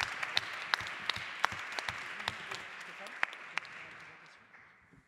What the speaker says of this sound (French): on les applaudit très très fort s'il vous plaît